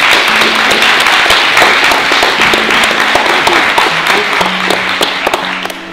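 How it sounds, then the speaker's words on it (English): Audience at a guitar event claps steadily and loudly for several seconds, individual hand claps audible within the wash, with a low hum running underneath. "so can we give him a clap?"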